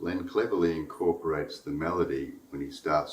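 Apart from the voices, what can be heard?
None of the usual background noises is heard.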